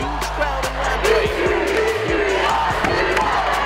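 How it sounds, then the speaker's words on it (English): Big home crowd at a Lapwai girls basketball game roaring and cheering loudly, with thumping impacts underneath and voices blending into the noise over a few seconds. "Another huge crowd in Lapwai."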